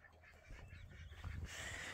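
Ducks at a farmyard at night give a few quiet, close quacking and honking calls in quick succession, faint against low background noise.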